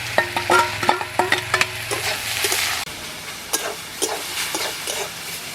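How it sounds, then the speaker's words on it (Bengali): Greens are stirred in a pan with well-browned fried onions and chili, giving a loud, close sizzle. Rhythmic scraping strokes of the spoon come first, then the frying hiss carries on with occasional clinks. "ভালোভাবে পেঁয়াজ ভাজার সঙ্গে আর লঙ্কা ভাজার সঙ্গে মিশিয়ে নিচ্ছি"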